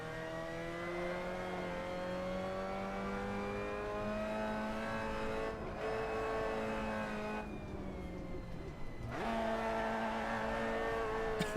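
A Mazda MX-5 engine in the racing game Assetto Corsa hums steadily at high revs, with a pitch that rises and dips through gear changes and throttle lifts, loud and continuous with no voices.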